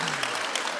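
Live audience at a podcast taping clapping in a room, a dense continuous patter of many hands holding steady and fairly loud throughout, with no voices over it.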